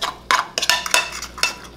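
Egg, oats, cinnamon and honey stirred in a pan, with a utensil scraping and clinking against the metal in several quick, close strokes.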